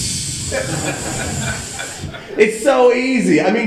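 An aerosol air freshener can sprays a steady hiss for about two seconds, and then someone talks and chuckles.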